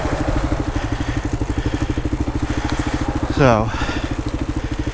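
A 2018 Kawasaki KLR650 motorcycle chugs along a four-wheeler trail, its single-cylinder engine pulsing steadily and loud, with a brief rising rev near the end, while someone talks over it.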